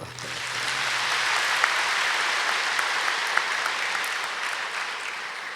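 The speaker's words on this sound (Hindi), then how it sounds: "ताली बजाओ।" Steady, dense applause from a large audience at a spiritual gathering fills the hall, even and sustained throughout, with no voices over it.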